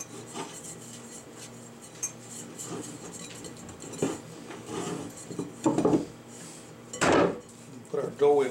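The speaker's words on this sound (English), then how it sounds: "we'll just throw a little bit of oil into our bowl. Spread that around a little bit." Oil is spread around the inside of a bowl before rye bread dough goes in. Close, intermittent rubbing and scraping strokes come in bursts and grow louder toward the end.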